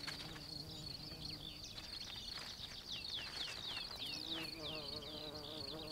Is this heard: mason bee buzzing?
yes